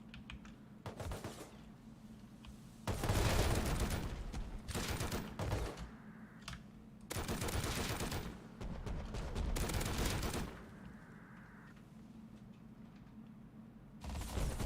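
Bursts of video game gunfire, several loud rattling volleys separated by quieter gaps, mixed with sharp clicking sounds.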